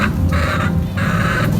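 Chickens cluck loudly and close by, two drawn-out calls in quick succession with no speech.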